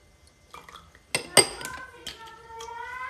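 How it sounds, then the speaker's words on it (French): Metal spoons clink and tap against a container while cider vinegar is added to a homemade potion, a few sharp close clinks amid quiet handling. "On va venir mettre 2 cuillères de vinaigre de cidre."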